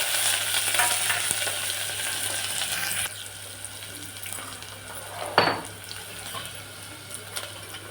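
Onion, green chili and garlic frying with cumin in hot oil for a tempering for khichdi rice, a steady close sizzle with stirring and a brief clatter of utensils, no talk.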